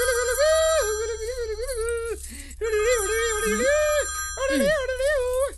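A melodic phone ringtone plays loudly and continuously, repeating its warbling tune in close succession with a short break midway.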